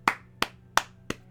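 Four sharp, evenly spaced hand claps, close and dry, used to imitate butt cheeks clapping.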